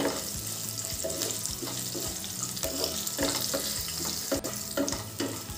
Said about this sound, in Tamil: இதுவும் சேர்த்து ஒரு நிமிஷம் மீடியமில் வச்சு வதக்கிக்கலாம்